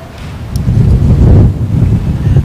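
Strong typhoon wind with heavy rain batters the coast at Gumaca, Quezon, producing a loud, continuous low roar of wind buffeting the microphone, surging and easing in gusts with no voices heard.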